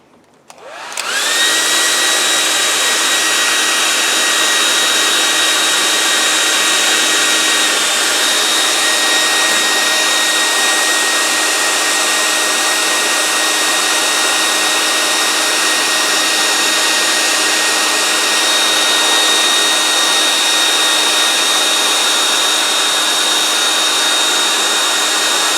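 A hair dryer blasts a painting to dry the paint, switching on abruptly and holding a loud, steady whirring roar with a constant high whine for the full length, no voices.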